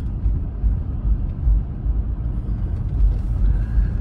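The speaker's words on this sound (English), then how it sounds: "I got to turn them off because here comes a car." A car passes on a road beside a truck fitted with ditch lights, a winch and a new bumper, heard as a steady low rumble that lasts the whole time with no voices over it.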